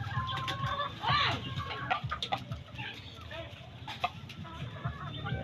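Shamo gamecock chickens cluck and squawk nearby with scattered sharp calls, while someone talks over the birds throughout.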